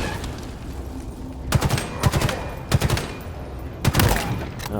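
Four separate bursts of rapid gunfire in the Halo Infinite campaign, each a short tight cluster of shots spaced about a second apart over steady background ambience.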